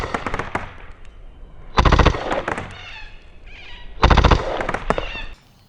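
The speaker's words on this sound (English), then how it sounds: "Here's how it shoots at a close range distance of only 20 meters." A 430fps HPA gel blaster firing at a target 20 meters away, with two loud bursts of rapid sharp shots separated by quieter stretches of individual pops.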